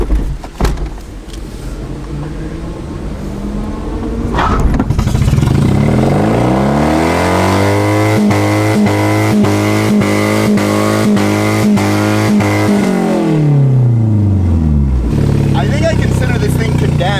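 A Nissan 240SX engine strains uphill in third gear, rising from a low bog into a loud sustained rev with strong harmonic whine, then dropping off near the end; people talk over it at first.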